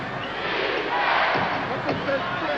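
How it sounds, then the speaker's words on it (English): A basketball arena crowd in a 1992 regular-season game, a loud, sustained roar of many voices chanting for defense, filling the whole moment with a faint thud partway through. "The crowd again chanting defense."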